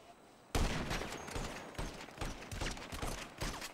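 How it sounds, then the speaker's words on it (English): Video game shotgun gunfire during an online shooter match: a loud blast breaks a quiet start, then repeated heavy shots follow in an uneven rhythm, close and dominant. "I'll rush him with the shotgun."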